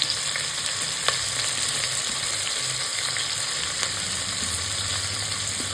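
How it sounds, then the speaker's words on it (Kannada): Sliced onions fry in hot oil, cooking toward brown, with a continuous even sizzle close by and an occasional faint clink of a utensil; no one speaks. "ಇದೆ ಎಣ್ಣೆಗೆ ಆನಿಯನ್ ಹಾಕಬೇಕು. ಫುಲ್ಲು ಬ್ರೌನ್ ಮಾಡ್ಕೋಬೇಕಂತ, ಚೆನ್ನಾಗಿ ಫ್ರೈ ಆಗಬೇಕು."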